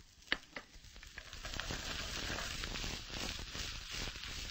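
Green onion, garlic and ginger frying in hot oil in a pan, a dense, steady crackling sizzle with sharp pops scattered throughout, close and fairly loud, with no one talking.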